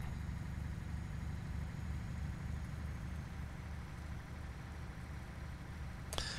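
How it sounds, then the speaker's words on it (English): A truck engine idles in Euro Truck Simulator 2 with a steady, low, rumbling drone that stays even throughout, and a brief click comes near the end. "this engine sounds fine"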